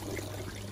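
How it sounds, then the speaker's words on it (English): Water is pumped out of an LG washing machine's drain hose after a pump replacement, a brief steady pouring rush with a low hum beneath it, close and fairly quiet. "Water being pumped out"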